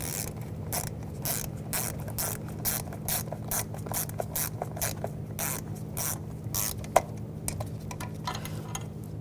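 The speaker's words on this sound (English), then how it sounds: "Now I'll tighten these down." A ratchet tightens the EGR valve bolts on a 2011–2018 Volkswagen Jetta 2.0L TDI, clicking in quick, uneven bursts of rapid pawl ticks over a steady low hum, with one sharper tap near the end.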